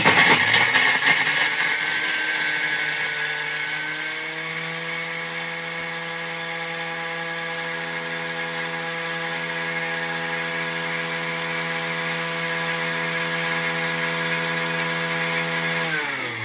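A food processor grates ingredients for basil pesto with a loud, continuous motor whir that starts harsh and rattly, then settles into a smoother, slightly quieter steady hum before stopping, close up and with no talking.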